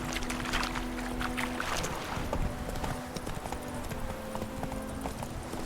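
Horse hooves clip-clop steadily at a riding pace in The Witcher 3, mixed with ambient wind and background game sounds, with no talk over it.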